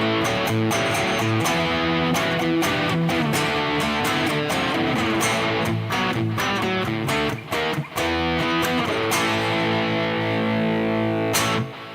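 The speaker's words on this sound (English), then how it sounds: "it seems to thicken up a little bit with some distortion" An instrument played through a distortion effect, a loud, thick, continuous buzzing tone with sustained layered notes and sharp clicks scattered throughout.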